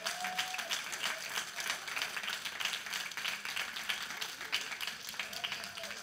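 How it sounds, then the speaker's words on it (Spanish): A church congregation claps in sustained, dense applause during a Spanish-language worship service, steady and moderately loud across the whole stretch, with scattered voices calling out. "Denle un aplauso si es para Él."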